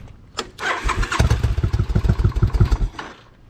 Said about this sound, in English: It should fire right up as soon as I turn the key on.